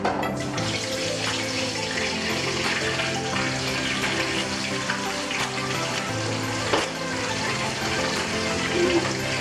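Chicken drumsticks lowered into hot frying grease for home-style fried chicken, giving a steady, close, bubbling sizzle with watery crackle that continues throughout, plus a couple of faint clunks.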